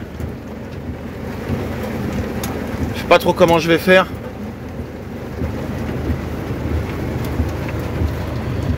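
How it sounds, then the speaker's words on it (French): A pre-dawn thunderstorm brings heavy torrential rain, a steady wash of hiss and low rumble throughout, with someone speaking briefly partway through. "Il y a de l'orage et tout à torrent."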